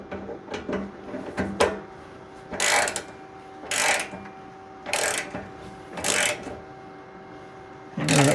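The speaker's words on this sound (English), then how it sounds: "now we just reverse our ratchet here" Hand ratchet on a snowblower bolt gives short bursts of crisp clicking, about five separate runs spaced a second or so apart, close and fairly quiet with faint hum in the background.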